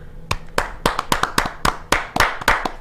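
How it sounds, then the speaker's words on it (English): Clapping in a morning show studio, a few pairs of hands striking in loose, uneven bursts, close and crisp with brief gaps between the claps. "a special round of applause for Fish."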